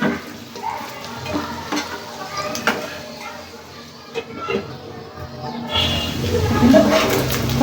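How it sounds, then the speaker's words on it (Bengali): Beef being fried dry in a wok for a spicy Bengali beef fry, giving a steady close sizzle with stirring scrapes and clatter that grows louder near the end, with a voice talking over part of it. "এখন এখানে আমি সুন্দর করে ফ্রাই করে নেব।"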